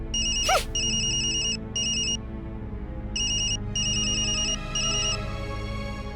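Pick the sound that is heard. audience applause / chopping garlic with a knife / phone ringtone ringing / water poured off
phone ringtone ringing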